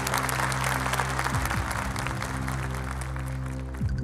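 Studio audience applause for a contestant at a Quran recitation competition, a continuous, dense clapping from many hands over a low steady hum, loud and sustained throughout.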